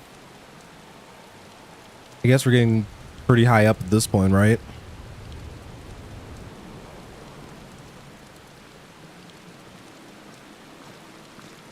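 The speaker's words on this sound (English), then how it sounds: "What's up with the rain?" Steady rain hisses as a constant wash of noise in the video game Final Fantasy 16, continuing alone after someone speaks briefly over it.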